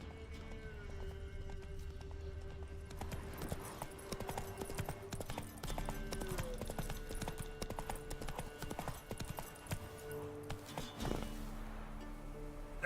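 Hooves of Roach, the horse in The Witcher 3, clip-clop steadily and close by in a rhythmic gait, with an occasional whinny over a game music bed.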